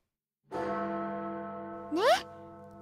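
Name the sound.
bell chime in an audio drama, not a school chime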